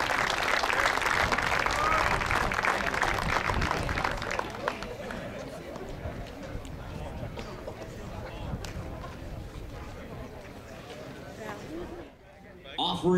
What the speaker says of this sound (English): how about one more round of applause for all of those who made the Myers Baseball Stadium dedication possible